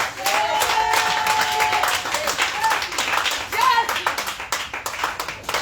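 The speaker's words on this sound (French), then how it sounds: "Acclame pour la femme." Church congregation at a worship service in Gagnoa, rhythmic clapping that goes on throughout, with sung voices and talk over it.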